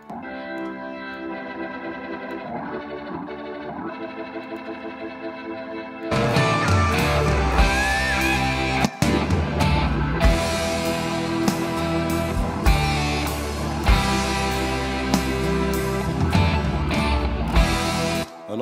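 Sustained Hammond organ chords swell in a reverberant room, quiet at first, then fuller and brighter with added distortion grit and echo for the rest.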